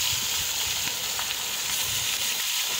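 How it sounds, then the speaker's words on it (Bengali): Tilapia fish fry in hot oil in a pan, giving a steady, loud sizzle and crackle that runs unbroken throughout, with no talking. "তেলাপিয়া মাছ ভাজি করা হচ্ছে"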